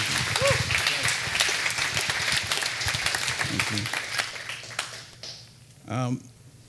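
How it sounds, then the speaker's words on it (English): An audience at a business event with Senator Mitt Romney bursts into dense, loud applause, the clapping slowly thinning out as a voice speaks over the end. "Give him a round of applause."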